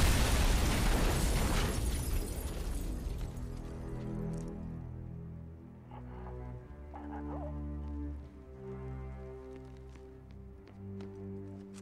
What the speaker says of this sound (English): Exactly where the rocket hit.